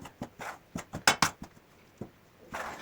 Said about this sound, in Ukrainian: Спочатку вимішуємо ложкою, тому що воно гаряче.